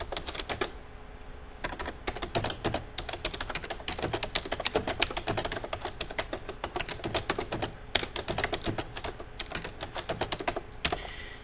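Steady, fast typing on a computer keyboard while entering material notes into a job posting screen, with dense close key clicks running continuously and no voices.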